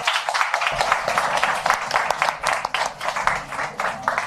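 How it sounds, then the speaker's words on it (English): An audience at a magazine unveiling event gives a lively round of applause, many hands clapping densely and continuously with slight swells, fairly close and loud throughout. "Can we have a huge round of applause for them?"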